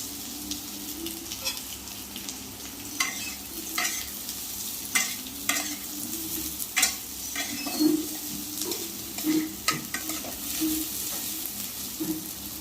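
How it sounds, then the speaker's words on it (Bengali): Bitter gourd and potato pieces frying in a pan at home, a steady sizzle with repeated scraping strokes of a spatula and occasional metallic knocks against the pan. "উচ্ছেগুলো একটু ভেজে ভেজে নেব তারপরে দিয়ে দেবো আলু"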